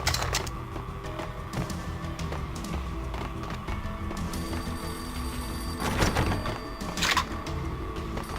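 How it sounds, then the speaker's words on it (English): An old, beaten-up telephone rings in the entrance hall in the Max Payne video game, with repeated bursts of bell ringing over a busy background of game sounds and thuds. "A beaten-up phone in the entrance hall was ringing."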